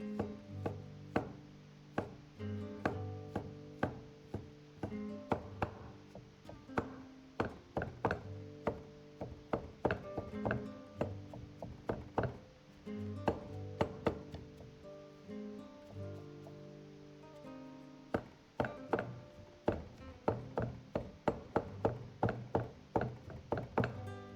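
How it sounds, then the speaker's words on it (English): A knife chops cabbage repeatedly on a cutting board, quick uneven bursts of thuds and taps, close up, with short pauses between runs. "Shred first and cut into little cubes. Chop a few times."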